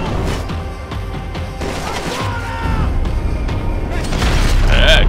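Barrage .50 caliber gun firing in the video game Max Payne 3, heavy booming shots over constant loud action noise, with crashing impacts and mechanical clatter building toward the end.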